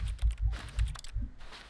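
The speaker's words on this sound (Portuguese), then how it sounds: "a gente aperta E e faz barulho de teclado" Keyboard typing from The Stanley Parable video game: a short run of soft, irregular key clicks with small pauses, close and moderately quiet.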